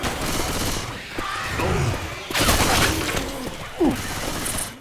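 Shotgun and rifle fire at zombies in Left 4 Dead 2, several sharp blasts mixed with chaotic crashes, mechanical clatter and shouting voices in a busy firefight.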